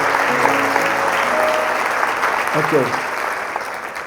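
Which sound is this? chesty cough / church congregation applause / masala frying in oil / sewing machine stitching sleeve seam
church congregation applause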